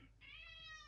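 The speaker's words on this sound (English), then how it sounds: "Sorry, my cat." A pet cat lets out a single short, rising meow close by in a quiet room, lasting under a second.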